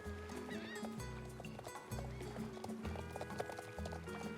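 In the video game Star Stable Online, an Irish Cob horse whinnies while its hooves clip-clop in a steady, repeating rhythm; the sounds are quiet, with a faint hum beneath them.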